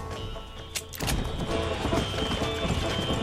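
A horse gallops at full speed in the video game Red Dead Redemption during a race, its rapid, rhythmic hoofbeats loud and close, joined by a sudden burst of louder movement about a second in.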